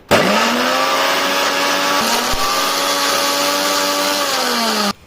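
A blender whirs steadily, grinding coconut water and sugar into a fine paste, starting abruptly, holding a loud even motor whine for about five seconds, then cutting off.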